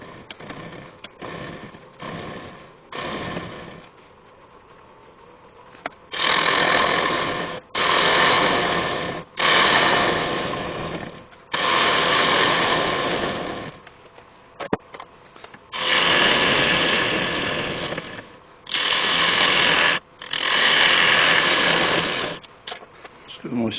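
A wood lathe turns a glued-up wooden bowl while a tool cuts a recess, giving repeated multi-second bursts of rough scraping noise separated by quieter gaps, with someone talking between cuts.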